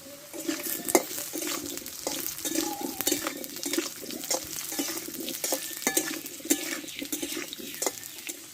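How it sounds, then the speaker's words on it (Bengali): Potatoes fry in mustard oil in a hot wok while being stirred, with repeated scraping and clinking of a utensil against the pan over a constant close sizzle. "উনুনটা ধরিয়ে আমি সরষের তেলটা দিয়ে দেবো। দিয়ে আলুটা কষে নেব।"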